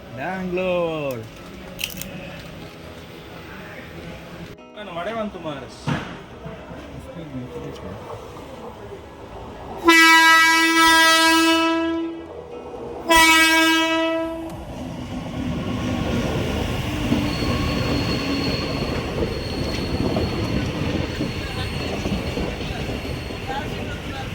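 Train on the Udupi to Bengaluru route: voices first, then a loud, close horn blast in two pulses, followed by the rumbling, clattering roll of wheels passing on the rails.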